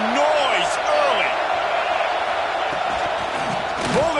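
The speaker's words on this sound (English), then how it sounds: "This crowd bringing the energy and noise early." Roaring football stadium crowd cheering early in a game, a steady dense wall of noise with whistles and shouts rising above it, while a voice talks over the din.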